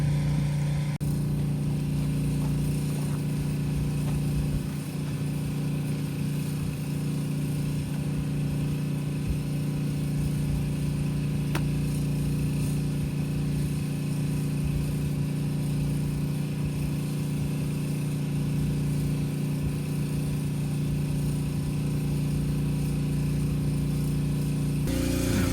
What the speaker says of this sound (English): Generator for the win.